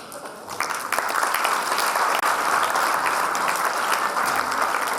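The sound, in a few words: audience applause at closing ceremony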